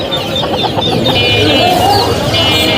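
Japanese bantam chickens clucking at a busy Mirpur-1 poultry market, several short clucks and calls over a constant crowd and traffic hum.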